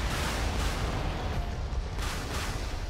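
Warship cannon fire in a modern naval combat video game, dense and continuous with heavy booming bursts layered over a constant roar of battle, loud and close with no pauses.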